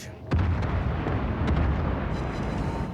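Heavy naval shells from a battleship slam into an enemy cruiser in World of Warships: Legends, with a deep booming impact and a rumbling rolling explosion, followed by further muffled blasts, loud and close.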